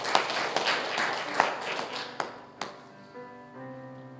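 A church congregation claps in praise at an Easter service. Scattered, uneven claps fade out over the first few seconds, and sustained musical tones rise in their place.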